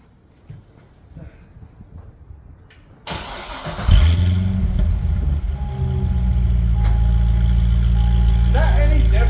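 A stock Chevrolet C6 Z06 Corvette cranks and fires up, the engine catching with a loud bark and then settling into a deep, steady idle nearby; a person speaks briefly beforehand.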